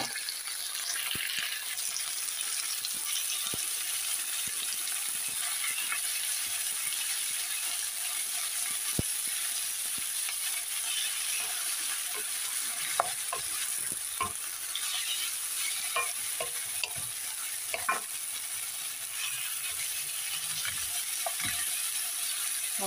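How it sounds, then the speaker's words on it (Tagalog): Minced pork sizzles steadily in a pan with onions while a spoon scrapes and stirs through it in scattered clinks, a close, continuous frying hiss with no talking. "Halo-haloin na natin hanggang mahalo yung sibuyas at tender."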